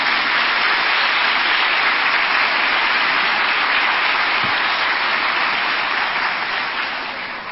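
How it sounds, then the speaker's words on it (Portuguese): Steady, loud applause from a church congregation, dense clapping that holds evenly for several seconds before beginning to fade near the end, with no voices over it. "uma salva de palmas para a palavra do Senhor"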